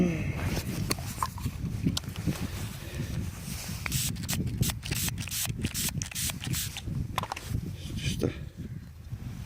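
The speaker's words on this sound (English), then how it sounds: "rub it gently" A metal-detected Saxon strap end is rubbed against trouser fabric to clean it, giving a steady, close scuffing friction with irregular strokes and a few sharp ticks, continuing throughout with no speech.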